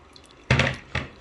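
Water poured over coffee grounds to brew, heard as two short splashing pours, close and clear, with a quiet pause between them.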